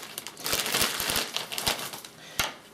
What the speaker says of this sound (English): I have a Ziploc bag.